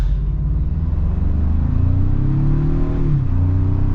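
A 2026 Honda Passport's engine pulls hard in sport mode, a loud, close rising drone that climbs in pitch, then briefly dips at a shift before resuming, with a steady low road rumble underneath.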